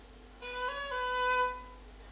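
A single held instrumental note with a quick ornamental flick to a neighboring pitch near the start, fairly soft and isolated, fading after about a second.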